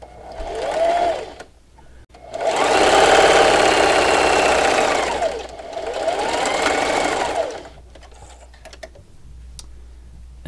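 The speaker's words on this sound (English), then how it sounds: "And I'm going to backstitch." A sewing machine backstitches pinked fabric for a Halloween treat bag, running in a short burst, then a long steady whirring stretch and another shorter run, loud and close with no talking.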